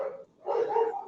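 A dog gives a short bark followed by a longer whining bark, faint and somewhat distant, with no talking over it.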